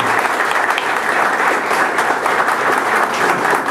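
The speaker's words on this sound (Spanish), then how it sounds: "palmas para él" Loud, dense applause from an audience for a former mayoral candidate of Nuevo Imperial, a continuous wash of many hands clapping at full strength throughout, with no pauses.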